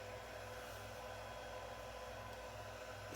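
Small 40mm cooling fans inside a Supermicro SuperServer SYS-E300-8D whir in a steady, quiet airy hiss, constant and even throughout with no voices.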